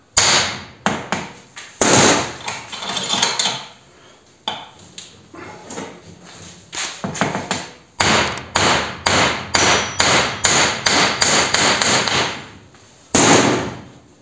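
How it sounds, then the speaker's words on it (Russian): A small sledgehammer strikes a nut clamped in a vise to loosen it, producing loud, sharp metallic blows at close range that come in irregular runs and then in a quick, steady series. "зажимаем гайку в кисы, кувалдочка, и пробуем откручивать"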